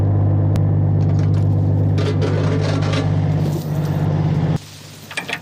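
An off-road vehicle stuck in wet mud on a Virginia hills trail spins its wheels with a loud, droning engine rumble and scraping tire churn. The sound then cuts off abruptly, leaving quieter scuffs.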